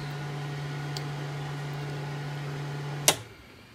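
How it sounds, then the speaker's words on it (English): A boat's engine-bay blower fan running, a steady low electric hum under faint background noise, ending abruptly with a sharp click as it switches off. "Leave the blower on for a minute to get rid of the fumes."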